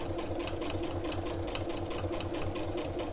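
A sewing machine stitches a long straight seam on a reversible tote, an even, close, moderately quiet motor whir with a quick pulsing needle beat that never stops.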